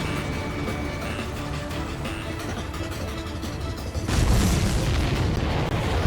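A missile strikes a supply ship in the Ace Combat 7 video game, a deep, loud boom swelling into a sustained roaring blast after a steady rumbling lead-in of flight noise.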